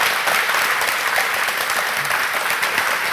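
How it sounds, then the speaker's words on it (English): A crowd claps steadily, a dense, even round of applause throughout. "can we get a round of applause for David Wise and Grant Kirkhope?"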